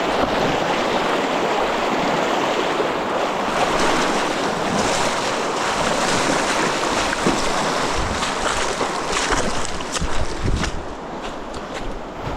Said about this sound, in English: This next section of the river is significantly faster and deeper.